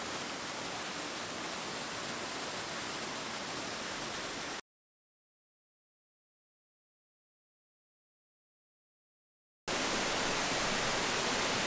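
The Allerheiligen waterfalls rush with a steady, dense roar that cuts out abruptly for about five seconds mid-clip, then resumes at full strength.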